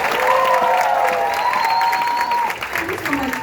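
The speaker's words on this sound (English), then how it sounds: "please give another round of applause to them" Audience applause at a training session, a continuous wash of clapping heard under a tonal voice or music line that runs through most of the short stretch.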